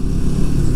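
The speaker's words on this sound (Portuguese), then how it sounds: "E aí você vai notar quando acelera, faz um cracacacacaca." Royal Enfield Himalayan 450 motorcycle engine knocking from pre-ignition under acceleration, a loud, close, rough rattling drone with rapid irregular pulses.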